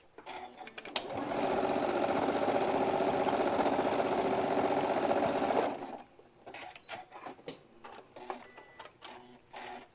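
A sewing machine stitches a hobo bag in one loud, steady mechanical run of about four seconds. Handling and clicking noises come before and after it.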